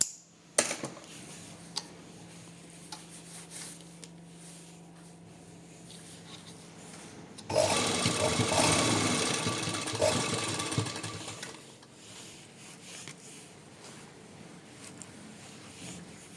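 Sewing machine stitching cotton lace onto fabric, a steady low whir of needle strokes that surges louder and faster through the middle stretch, then eases back to a quieter run.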